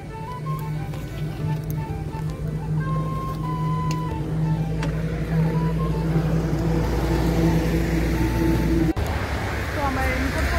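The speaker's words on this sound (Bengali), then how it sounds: "অনেক জোরে জোরে গাড়ি যাচ্ছে, কোনো আওয়াজ শোনা যাবে না" Fast traffic on a rainy road, heard as a loud, continuous engine drone and tyre rush with tonal hums, steady throughout and ending in a sharp break near the end.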